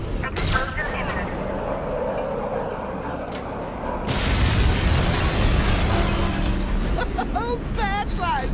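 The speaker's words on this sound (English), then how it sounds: "Warning, flash integrity critical. Explosion imminent." A heavy explosion rumbles and crackles through the Batman: Arkham Knight game soundtrack, starting with a sudden loud broadband burst midway that keeps roaring. A voice speaks near the end.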